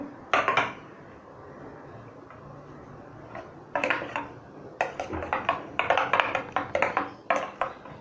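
A fork clinks rapidly against a bowl while eggs with chopped chilli and coriander are whisked, with bursts of sharp metallic taps separated by short pauses, close and fairly loud.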